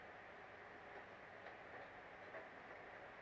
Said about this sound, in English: Sounds like trains on a train track.